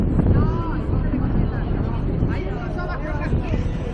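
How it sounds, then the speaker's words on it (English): Strong wind buffets the microphone on the long Puerto Madryn pier, a continuous loud low rumble with gusty swells throughout. "And the wind is hairy. It's blowing pretty bad."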